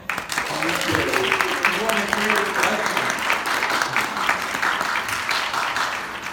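A college audience at a Constitution Day lecture gives a welcoming round of applause, steady dense clapping throughout, loud and close, with no talk over it.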